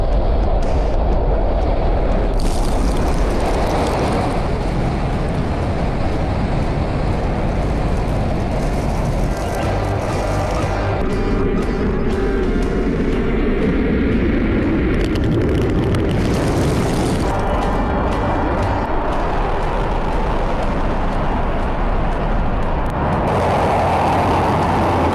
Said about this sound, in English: Touchdown. Engine stop.